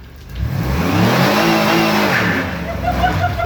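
A car engine revs hard in neutral, the roar swelling and holding steady for several seconds before easing slightly, loud and close, with no talk over it.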